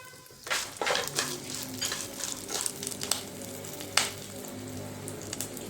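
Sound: peanuts and cashews frying in oil for lemon rice

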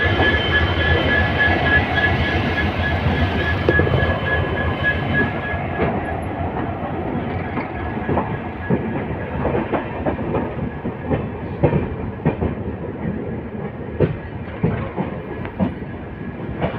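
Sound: Padatik Express passenger train running on rails

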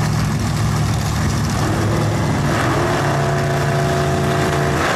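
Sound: 1956 Chevy classic cars launching off drag race starting line

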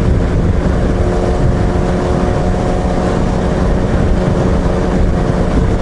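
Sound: motorcycle riding at 100 km/h heard inside jet helmet

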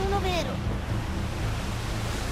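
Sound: wind at sea in video game Assassin's Creed 4: Black Flag

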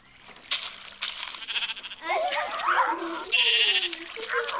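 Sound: sheep bleating in Minecraft video game

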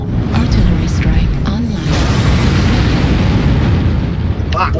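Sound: artillery strike explosions in a mech video game

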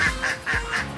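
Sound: ducks quacking at a mini zoo

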